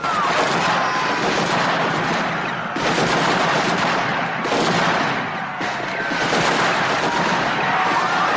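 Sustained rifle volleys from soldiers firing on General Dyer's order, a dense, loud crackle of overlapping shots with brief dips between bursts and no pauses in the barrage.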